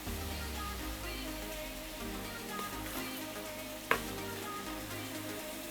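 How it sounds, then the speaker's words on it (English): Ram suya coconut rice with spice sizzles and fries in a pan, a soft steady crackle with one brief clink partway through. "So we're just going to fry this a bit."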